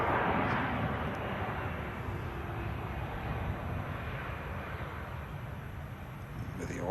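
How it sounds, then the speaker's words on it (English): An Airbus A320neo lands at Manchester Airport, producing a steady, broad jet roar of engines and airflow at moderate distance that holds evenly throughout, with no talking. "Smooth touchdown from the Neo."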